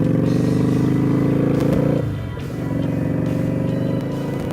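A motorcycle engine drones loud and close as the bike heads onto the highway, with a steady low rumble, a brief dip around a gear change, then the engine pulling again.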